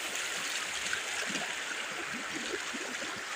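A stream flows through a green forest in the early morning, giving a continuous close rush and gurgle of water with no voices over it.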